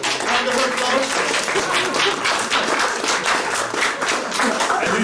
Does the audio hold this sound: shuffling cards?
no